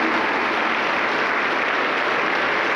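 A Pentecostal church congregation in Huancayo claps steadily and loudly throughout, a dense continuous wash of applause with no voices standing out.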